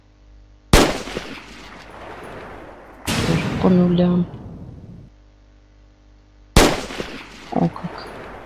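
Three sharp cannon-like blasts from an online bonus shooting game, spaced several seconds apart, each with a sudden loud onset and decaying tail, the middle one followed by a short jingle, with someone speaking briefly.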